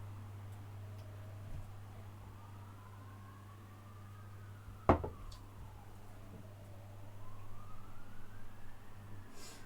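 A distant ambulance siren slowly wails up and down outside an apartment window, faint beneath a steady low hum, with a single sharp click partway through.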